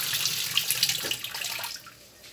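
Water pours steadily into the tub of a Suggar Lavamax 10 kg washing machine, a close hiss and splash that gradually thins and fades toward the end.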